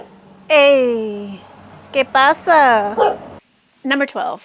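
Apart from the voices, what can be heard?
dog barking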